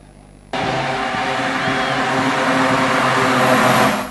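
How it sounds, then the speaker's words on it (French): An airplane landing on an aerodrome airstrip in Butembo, heard as a sudden loud engine roar that holds steady and strong for several seconds before easing off at the end. "C'est à 11h que son avion atterrit sur la piste de cet aérodrome."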